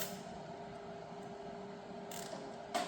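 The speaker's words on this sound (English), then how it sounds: "a couple of well-placed zip ties, let's put like 6 on it." Zip ties are ratcheted tight on a trolley bike trailer, a quiet rapid clicking of the pawl running nearly continuously, ending with a couple of brighter snaps close by.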